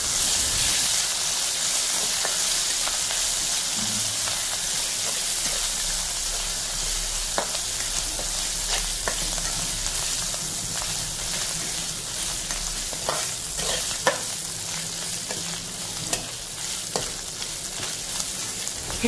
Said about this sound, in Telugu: పచ్చి వాసన పోయేంత వరకు జింజర్ గార్లిక్ పేస్ట్ని కలబెడుతూ ఉండాలి